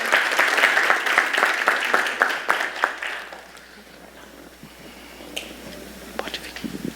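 A church congregation claps together for a few seconds, loud and dense, then the applause thins to scattered claps and quiet room noise.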